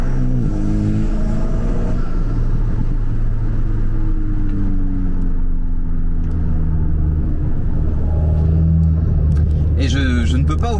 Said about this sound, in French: C'est vraiment un moteur turbo, donc on peut pas espérer lui faire sortir une mélodie très métallique.